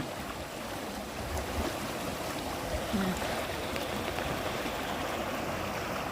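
Ice-cold stream water rushes and gurgles outdoors in a continuous broadband wash, moderately loud and steady, with faint wind and a few soft murmurs in the background.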